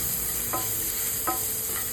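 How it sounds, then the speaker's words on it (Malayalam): Chillies and black pepper sizzle in hot oil in a kadai over low flame, a steady crackling hiss with a few soft clinks of a spoon stirring. "ലോ ഫ്ലെയിമിൽ വേണം വറുക്കാനായിട്ട്"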